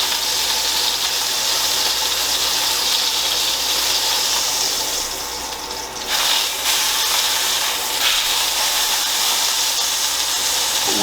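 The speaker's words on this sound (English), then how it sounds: "But we're getting a sear." Meat searing after a sous vide cook, a loud continuous broad hiss and sizzle with a brief dip midway, steady throughout with no talking.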